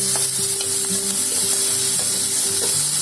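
Ingredients sautéing in oil for mutton sukka: a dense, loud, steady hiss of frying with intermittent soft stirring strokes, close by and uninterrupted by speech.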